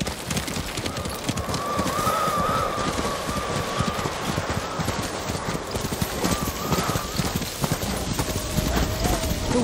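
Horse hooves clip-clop steadily in Ghost of Tsushima, a continuous rhythmic trot through snowy weather, with wind and a faint whinny running beneath the steps.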